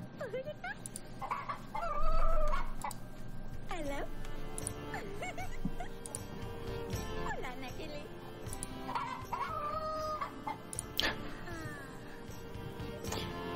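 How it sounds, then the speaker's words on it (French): A rooster in the video game Yes Your Grace clucks and crows repeatedly, mid-distance among chicken sounds and game ambience, while a person talks over it throughout. "le coq, on va le laisser là"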